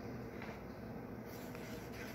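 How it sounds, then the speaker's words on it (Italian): A pen draws eyes on a sheet of paper for a homemade bookmark, a soft continuous scratching stroke close up, with no voices. "poi se vorrete potrete disegnare"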